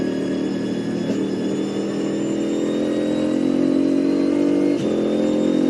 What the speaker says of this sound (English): Just hear the V8, all 8 cylinders firing.